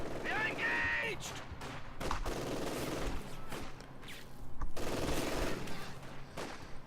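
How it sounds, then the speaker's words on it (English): Machine-gun fire in Company of Heroes 2 sprays infantry in bursts of rapid shots, mixed with other battle noise and someone talking over the game sounds at low level. "My MG is now focusing on the infantry."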